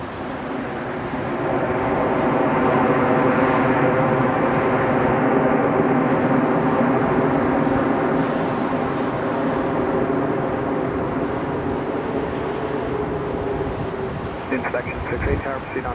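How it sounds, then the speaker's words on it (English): An airplane roars steadily at snowy Toronto Pearson airport (YYZ), a loud sustained jet rumble lasting the whole stretch with a rattling, buffeted texture toward the end, no talking. "As you can see, that was a plane."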